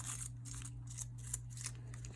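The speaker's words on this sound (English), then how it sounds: "take the scissors and snip myself some leaves off" Scissors snip paper leaves repeatedly in quick, crisp cuts, close and quiet, over a low steady hum.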